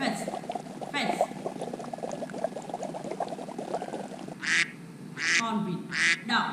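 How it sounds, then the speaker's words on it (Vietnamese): A duck quacks in a short burst of three or four harsh calls near the end, following a stretch of dense bubbling, gurgling noise. "Con vịt."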